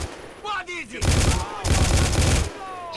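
Rapid bursts of automatic gunfire ring out in the GTA IV video game, two long loud stretches of rattling shots with a short pause between them, under a player's voice and game sounds.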